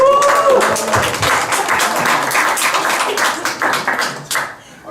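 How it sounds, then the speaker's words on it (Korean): Applause from a church youth worship congregation, dense steady clapping for about four seconds before tapering off, with a brief voice near the start. "우리 다시 잘 돌아왔다고 환영의 박수 한번"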